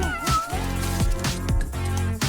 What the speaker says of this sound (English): What's under here? A kitty?